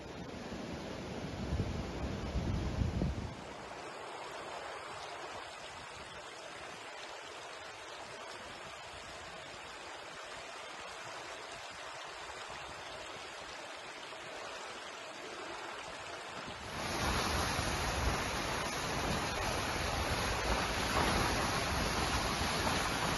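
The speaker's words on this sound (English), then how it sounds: "The governorate of South Al-Sharqiyya witnessed moderate to heavy rains accompanied by active winds which led some wadis and their tributaries to overflow." Overflowing wadi floodwater in South Al-Sharqiyya after heavy rain and strong winds makes a steady, dense roar of rushing water, loudest at the start and end, with no voices.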